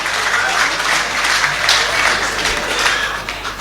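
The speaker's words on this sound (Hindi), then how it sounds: "अगर आपने बुलाया है तो जोरदार तालियों से इस्तकबाल किया जाए" Audience applause at a poetry mushaira in Patna, a dense, steady wash of many hands clapping that stays loud and close throughout, with faint voices mixed into the crowd.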